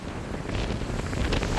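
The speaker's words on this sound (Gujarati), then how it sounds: "જુઓ સામે આપણા મોજા કેવી રીતના એ ઉપર આવે છે" Sea waves surge onto the shore at Malala seashore in Diu-Daman, India, driven by monsoon wind; a steady broadband rush with wind buffeting the microphone, loud and continuous, no voices.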